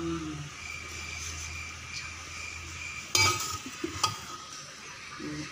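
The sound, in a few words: serving chicken tikka biryani out of the pot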